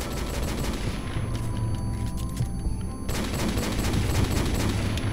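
Dense video-game gunfire, a Desert Eagle among the weapons, crackling in rapid loud bursts almost without pause, with a brief dip in intensity midway before the shooting surges again.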